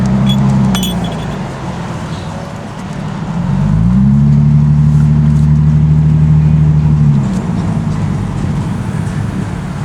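Car driving, a loud steady engine hum and road rumble from inside the cabin, the engine pitch dipping and then rising and holding as speed changes.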